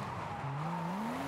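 A car in a racing video game drifts with a drawn-out tire squeal over a low engine drone, the skid tone gliding slowly upward, moderately loud and steady.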